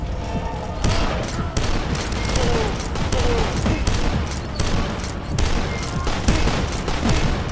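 Dense, rapid gunfire in the retro shooter DUSK: a continuous barrage of loud, overlapping shots and booms with no pauses.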